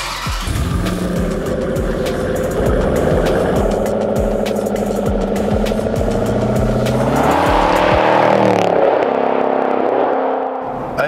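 A Jeep Grand Cherokee SRT Trackhawk with a 6.4 liter Hemi and Edelbrock supercharger revs hard and accelerates, its loud engine climbing in pitch through several shifts before cutting off abruptly.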